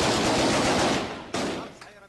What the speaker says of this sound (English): Heavy explosions and gunfire continue to shake Syria.